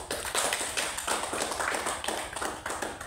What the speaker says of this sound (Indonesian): Kita berikan dulu aplaus untuk Ibu Guru